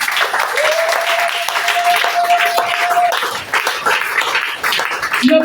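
A church congregation claps loudly and continuously to acclaim the Lord during a sermon. A sustained whistle-like tone sits over the applause, and voices call out in the crowd.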